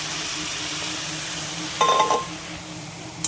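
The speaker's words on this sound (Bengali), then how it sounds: "ভালো করে বড়িটা একটু লাল লাল করে ভেজে নিয়ে তার মধ্যে শাকটি দিয়ে দেবো।" Lentil dumplings (bori) fry in oil with a soft, even sizzle, broken near the middle by a brief metallic clink and scrape of a utensil against the pan.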